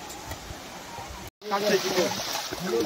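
Waterfall water runs down the stone steps of Raigad fort in a close, steady rushing flow, briefly cut off once, with people talking over it.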